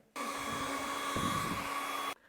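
A cordless battery-powered hair dryer blows steadily on its cool setting, a continuous airy whoosh with a motor whine that starts abruptly and cuts off cleanly after about two seconds, with no voices.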